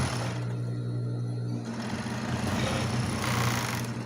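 A sewing machine stitches elastic onto the wrong side of a dance leotard, a close, steady mechanical whir that runs continuously, dipping briefly near the middle before resuming at a slightly fuller pitch.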